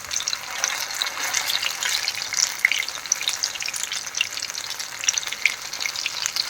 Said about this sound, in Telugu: ఒక 2 minutes ఫ్రై చేస్తున్నాం.